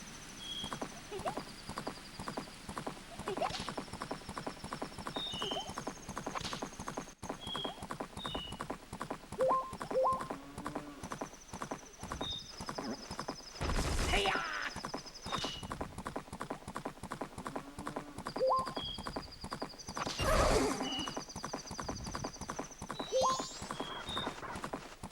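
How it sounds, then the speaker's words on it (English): Epona, a fully grown horse in Zelda: Majora's Mask, gallops with steady rhythmic clip-clop hoofbeats over game music, with a couple of loud whinnies standing out partway through. "Ready to see what the horse looks like in this game"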